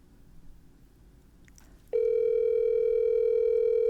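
A telephone dial tone starts abruptly partway through a call being placed to mom and holds steady and loud, preceded by faint handling noise and a brief click.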